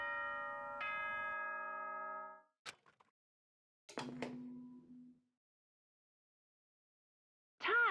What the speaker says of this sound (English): ding dong ding bong